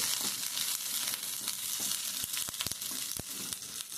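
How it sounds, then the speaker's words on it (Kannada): Curry leaves crackle and sizzle in hot oil for Mangalore-style egg curry, a steady dense frying hiss with sharp pops and spits near the end, close and fairly loud with no talking. "ಕರಿಲೀಸ್ ಹಾಕ್ತೀನಿ ಇದು ಫ್ರೈ ಆಗ್ತಾನೆ ಬರಲಿ"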